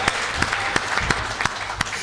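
A crowd at a comedic poetry recital applauds, with steady clapping and a few sharper claps standing out, lasting the whole moment without any voices.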